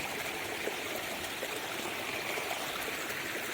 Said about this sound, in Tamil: அதில் தொட்டில் மேலே தண்ணி வடியுது